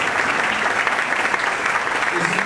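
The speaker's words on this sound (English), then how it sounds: "a warm round of applause for Collin LaLonde" A live event audience claps warmly for the presenter Collin LaLonde, a dense, steady wash of applause close by with no voices standing out.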